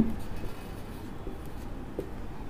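Steady marker or chalk strokes on a board during a chemistry lesson, a soft continuous scratchy rub, close but low in level, with no distinct pauses or speech.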